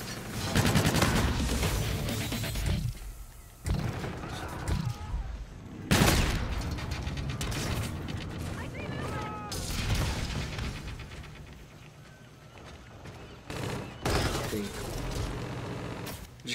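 Gunfire in the video game Call of Duty: Infinite Warfare, with loud bursts of automatic weapon fire and explosive blasts coming in waves, interspersed with game sound effects, near and dense throughout.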